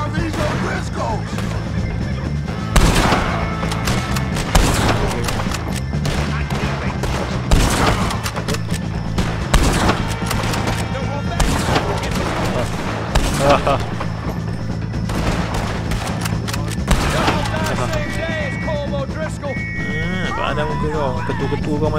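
Gunfire in the Red Dead Redemption 2 video game during a shootout with O'Driscoll gang members, repeated sharp shots and booms in irregular bursts over a continuous game soundscape, with voices shouting in between.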